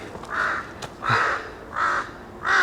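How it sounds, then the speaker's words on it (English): Crows caw in a forest park, four loud, hoarse calls in a slow, evenly spaced series, close by and with no voices over them. "these crows,"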